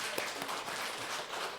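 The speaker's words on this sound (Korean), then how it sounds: "하나님께 영광의 박수 올려드리겠습니다." A church congregation at a Sunday service gives a brief round of applause, a soft, dense wash of many hands clapping with no distinct single claps.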